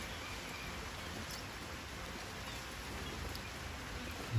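Light rain keeps up a soft, even hiss outdoors, faint and steady throughout with no talking.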